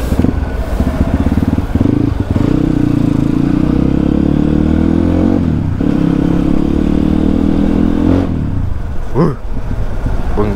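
A GasGas GE 250 supermoto motorcycle engine revs and rumbles loudly up close, holding a throaty idle with a few throttle blips and clattering noises between.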